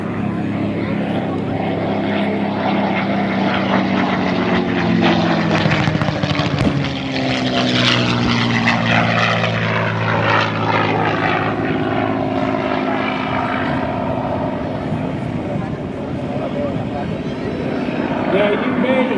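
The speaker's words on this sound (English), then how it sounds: "Now you may hear a little bit of singing coming off the airplane. That's the wind on the inside gun ports." A P-51 Mustang sweeps past at an airshow, its loud propeller roar swelling and shifting in pitch over about twenty seconds, with a faint whistling from wind in the gun ports and a voice commentating underneath.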